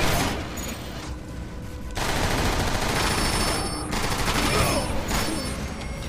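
Sustained automatic gunfire from the Transformers: War for Cybertron video game: dense, loud, rapid bursts of shots that fill the whole stretch, with brief dips between volleys.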